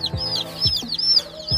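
Newly hatched chicks, zero to five days old, calling in a brooder: repeated bright, high peeping chirps with a few short low clucks at an even pace, close and fairly loud with no talk.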